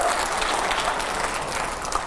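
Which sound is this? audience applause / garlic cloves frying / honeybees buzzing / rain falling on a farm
audience applause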